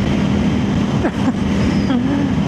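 CFMOTO 800NK motorcycle engine droning close under wind noise as a gear fails to engage on a shift from fifth to sixth with the quick shifter, pitch briefly sliding and wavering, with a voice speaking over it.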